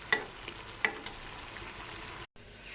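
Taro stolons cooking with a hilsa fish head in a pot over a very low gas flame, a faint, steady simmering sizzle with a couple of light clinks, cutting off briefly near the end.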